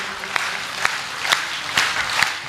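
An audience at a Hindi poetry recital applauds, a dense wash of many hands clapping close by with a few sharper claps standing out, brief and steady.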